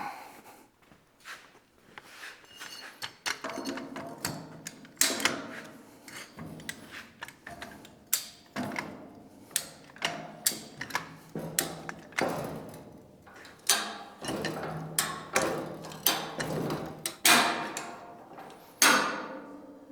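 A floor jack under a large welding table being let down and pumped back up, giving a steady run of metallic clanks, ratchet ticks and knocks at close range with no talk.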